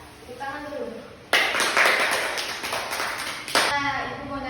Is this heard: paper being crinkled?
no